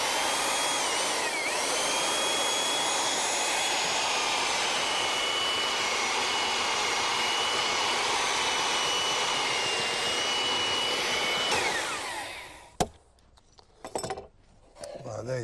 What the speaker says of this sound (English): get the old belt sander.